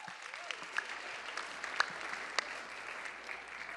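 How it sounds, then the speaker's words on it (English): Audience applause for a guest named Alex at the White House Correspondents' Dinner, a steady wash of clapping from a large crowd in a banquet hall with a few sharper claps, moderately distant and continuous. "give Alex a hand too as well"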